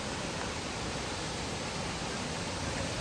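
Huluganga Ella waterfall in Sri Lanka, in heavy flow, roars with a dense, constant broadband rush of falling water, steady and unbroken throughout.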